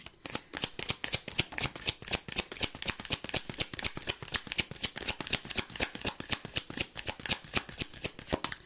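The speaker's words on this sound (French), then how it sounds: "Alors, je tire toutes les cartes." Playing cards riffled in a rapid, steady run of crisp flicks and slaps, close and fairly loud, continuing without pause and with no voice over it.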